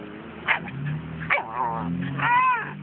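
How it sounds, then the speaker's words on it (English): Puppies yip and bark in short, high bursts amid a lively, playful scene, with a person's voice calling to them in between. "Puppies! Puppies! Hi, puppies! Hi, puppies!"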